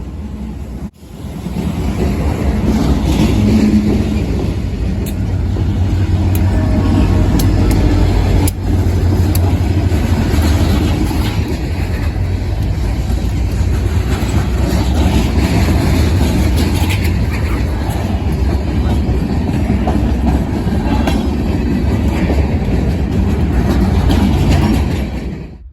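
Freight train led by EDPO locomotive 7541 with trailing units 7534, 7517, 7898 and a GP40-2 passing through Ayer, Massachusetts, a loud sustained rumble and rolling clatter of wagons close by for the full length.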